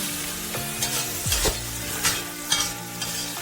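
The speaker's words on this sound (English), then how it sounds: "Saute the tomato paste." Tomato paste sautéing in a pan while being stirred gives a soft sizzle under a few scraping stirs and clunks of the utensil against the pan, close up and without talk.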